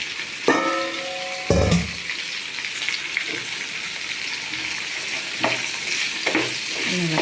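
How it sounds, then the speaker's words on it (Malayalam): Beef curry being stirred and fried in a pan, a steady soft sizzle with a few louder scrapes and clinks of the spoon against the pan, close up. "ഇളക്കി കൊടുക്കാം. ചെറുതായിട്ടൊന്ന് വഴലട്ടെ,"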